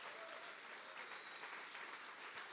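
Steady applause from a crowd, a dense even patter of clapping that continues throughout without voices.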